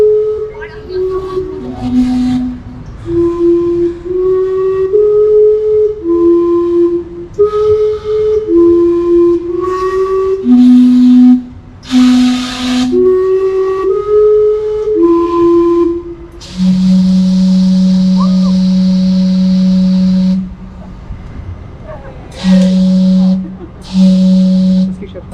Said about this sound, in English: Every hour, the steam clock whistles and rushes out steam.